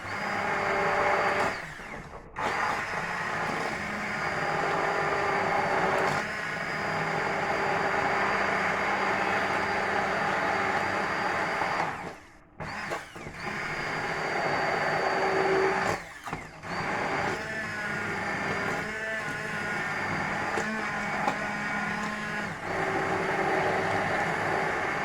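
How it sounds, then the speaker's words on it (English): Kitchen blender whirring through a white wine sauce, a loud steady motor drone with brief cut-outs and restarts over about twenty-five seconds. "When you use a blender, we're making sauces like this"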